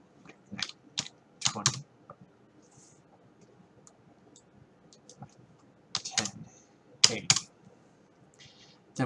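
Quiet bursts of typing on a computer keyboard, short clusters of clicking keystrokes separated by near-silent pauses, close to the listener.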